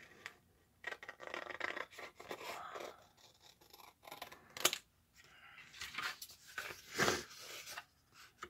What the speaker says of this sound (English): Okay, so I'm just going to cut those.